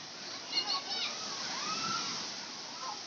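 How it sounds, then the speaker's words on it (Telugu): A filled bucket tips and pours water onto people at a fun park in Nellore, a steady rushing splash heard from a short distance, with faint children's voices in the background. "అక్కడ బకెట్లో నుంచి వాటర్ నిండిపోయిన తర్వాత ఒకేసారి పడుతుంది పైన ఉన్న వాళ్ళకి"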